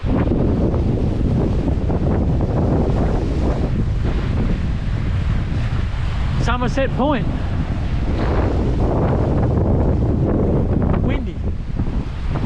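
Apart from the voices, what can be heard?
wind at Somerset Point, Cape York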